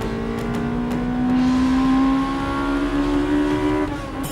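A sports car engine revs and holds a high, rising drone for several seconds, then drops off at the end, loud and near.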